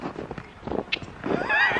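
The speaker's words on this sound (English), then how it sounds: "That horse is a mean horse." A horse whinnies loudly and close by, a rising, quavering neigh at the end, preceded by scattered hoof thuds and movement sounds from a small herd, with no talk.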